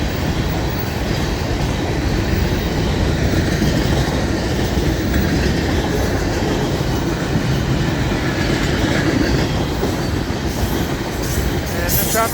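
A Florida East Coast freight train rolls past close by, its steady rumble and rhythmic wheel clatter filling the whole stretch without a break, with faint squeals over the loud, continuous roar.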